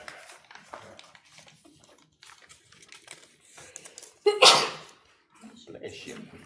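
A single loud sneeze bursts out at a public meeting, close and sudden, amid quiet clicking and shuffling with people speaking softly in the room.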